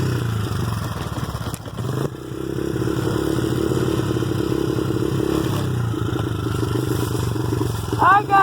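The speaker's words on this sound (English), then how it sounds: "I'll give you a warm startup on a 2009 Honda." Warm startup of a 2009 Honda dirt bike: a steady, loud engine idle with clattering mechanical texture runs throughout, a brief dip near the start and a short rev at the end, with a voice briefly over it.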